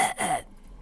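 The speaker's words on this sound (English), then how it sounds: "my welcoming cough" A single short throat-clearing cough from a talk-show host at the start of a live broadcast, close and abrupt, fading into quiet room tone.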